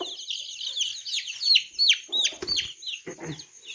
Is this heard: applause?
no